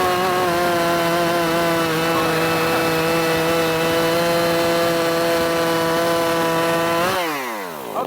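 A ported Jonsered 625 II chainsaw cuts through wood at high revs, giving a loud, close, steady buzzing whine for about seven seconds. The engine pitch then drops quickly as the throttle releases, with no talking.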